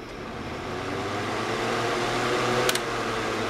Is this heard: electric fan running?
yes